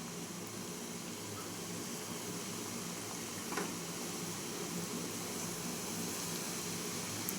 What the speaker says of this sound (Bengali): দেখুন, বড়াগুলো আমি এবড়ো খেবড়োভাবে ছাড়ছি